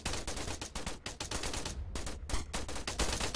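Bursts of automatic rifle fire in Arma 3, rapid repeated shots in several quick volleys with short pauses, loud and close in a chaotic firefight.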